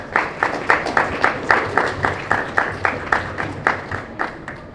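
An audience applauds at a university rector debate: loud, close clapping from a crowd that pulses in a steady rhythm for several seconds without pause.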